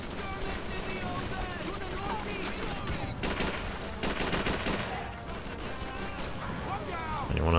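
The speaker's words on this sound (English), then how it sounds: "machine gun over here" Machine-gun fire and scattered shots rattle through a Call of Duty 3 battle, dense and continuous across the whole stretch under voices and game chatter, with a louder burst near the end.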